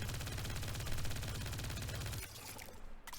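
A Submission gun in a video game fires a rapid, unbroken automatic burst for about two seconds, then stops abruptly, leaving faint game ambience.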